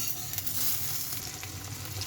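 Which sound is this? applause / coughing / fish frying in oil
fish frying in oil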